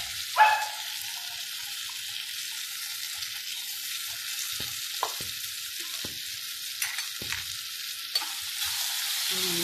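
A ground paste of ginger, garlic, coconut and chana dal is added to hot oil in a pan for a fish curry, sizzling steadily and close, with a few soft stirring scrapes and no talking.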